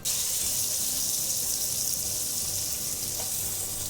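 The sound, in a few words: steak sizzling in a pan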